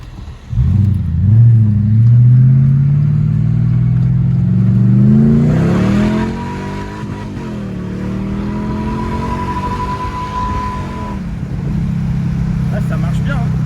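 A Mercedes CLK 55 AMG V8 roars through a loud rev with the windows open, then settles into a lower, steady rumble with a faint whine.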